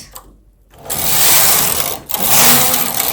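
Domestic knitting machine carriage knitting a row, two loud whirring, rasping sweeps close by, the first lasting over a second, then a brief break and a second pass.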